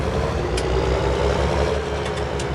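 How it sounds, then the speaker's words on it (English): Tractor engine in Farming Simulator 19 runs with a steady, loud low rumble and idle-like drone throughout, with no talking over it. "I do like the sound of this tractor."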